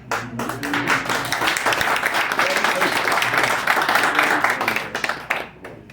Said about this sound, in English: Now let's everybody give a big clap to them.